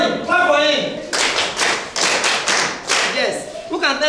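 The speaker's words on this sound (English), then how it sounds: "Clap for him." A classroom of students claps for a classmate who answered a teacher's question, a burst of dense hand claps lasting about two seconds between stretches of nearby talking voices.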